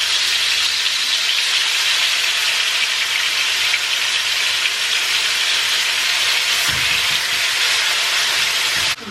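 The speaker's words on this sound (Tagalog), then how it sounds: "Pag mainit na, ilagay natin yung chicken." Chicken in a yogurt marinade frying in hot oil gives a loud, steady, close sizzle and hiss that runs unbroken from start to finish.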